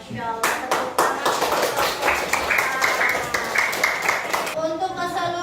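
Classroom applause from a group of students, a steady burst of clapping lasting about four seconds before stopping, with voices of children and a teacher speaking around it.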